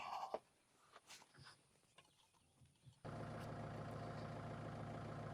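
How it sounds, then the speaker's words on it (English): A tractor engine starts and settles into a steady, rumbling idle after a few seconds of quiet outdoor sounds and faint clucks. "you can hear the tractor's running."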